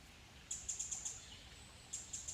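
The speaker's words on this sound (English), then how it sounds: "that's a Pacific wren" A Pacific wren sings on a forest hike among mosses and ferns, two quick bursts of high, rapid trilling chirps, fairly faint over a quiet background.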